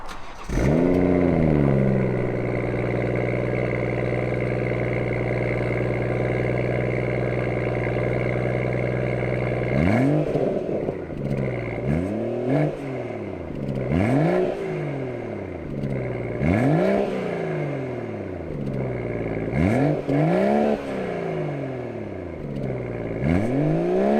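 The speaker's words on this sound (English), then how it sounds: "I'm going to overlay some clips of some revving for you" A BMW M140i Shadow Edition engine with Stage 2+ tune and pre-OPF exhaust idles with a steady hum, then revs repeatedly in sharp rising and falling bursts, loud and close, about a dozen revs in a row.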